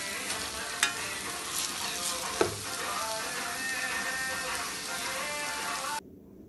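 Ginger, garlic and onion fry and sizzle in a pan for a Kashmiri rajma curry, giving a steady crackle with a couple of sharp clicks as a spoon stirs them and no talking.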